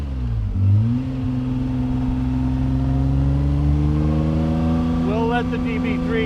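A 1956 Aston Martin DB3S-R engine pulling steadily and gaining revs, a loud, close, sustained drone that climbs in pitch toward the end.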